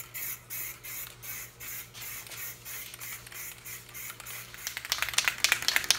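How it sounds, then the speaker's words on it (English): An aerosol can spraying paint onto a crawler bumper gives a series of short, regular hissing bursts, growing louder and more crackly toward the end, heard close with no talking. "Didn't sand or anything, just sprayed it on."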